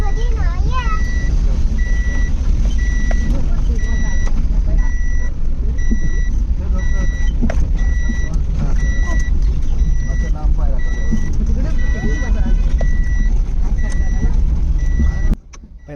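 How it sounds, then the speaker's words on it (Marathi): A car's seat belt warning chime repeats as evenly spaced high beeps over a constant engine and road rumble inside the moving four-wheeler, with a voice speaking over it. "पहिला सीट बेल्ट लावूया, आवाज बंद करूया."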